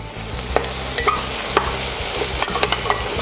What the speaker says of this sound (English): now we fry until the garlic is nice and aromatic, nice and toasty